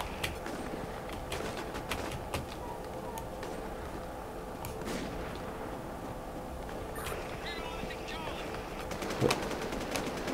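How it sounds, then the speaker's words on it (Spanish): Gunfire rattles through a War Inc Battlezone match, with scattered shots and bursts over a busy mix of game noise, plus a louder crack near the end while a player talks. "Luego disparos por ahí."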